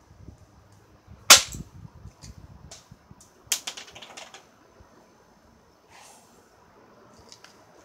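A BB gun fires in two sharp, loud cracks a couple of seconds apart, each followed by small ticking and rattling sounds, with quiet faint clicks in between.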